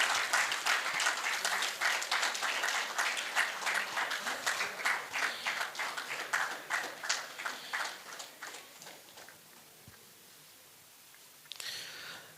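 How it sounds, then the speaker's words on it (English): Applause rises for a team at a hackathon finale, a roomful of people clapping in an uneven rhythm that thins out and fades, then a brief burst of noise at the very end. "let's give a big round of applause to the team Dream Drawers."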